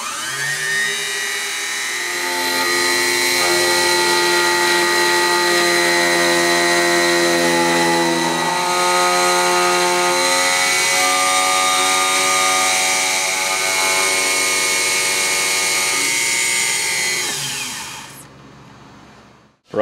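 Bianchi 303 key cutting machine cutting a key, a loud, continuous high-pitched motor whine and grinding cutter that runs for about eighteen seconds, shifting slightly in pitch as the cut progresses, then winds down and stops.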